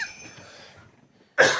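A single loud, close cough bursts out near the end, following a stretch of quieter background sound with no speech.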